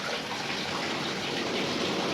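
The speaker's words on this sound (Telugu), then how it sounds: "ఇలాగ కడిగేసుకోవాలి పార్కింగ్ టైల్స్ ఇంటి ఎదురంగా స్థలం ఉంటుంది ఆ ప్లేస్ నీట్గా కడిగేయాలి" Flowing water washing the parking tiles in front of a house, a steady, dense rush and splash that continues evenly throughout without any voices.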